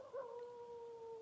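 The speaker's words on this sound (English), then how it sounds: "So that's a coyote there." Male coyote howling at night near a trail, one long, faint, wavering tonal howl that rises briefly and then holds steady at a distance, with no talking over it.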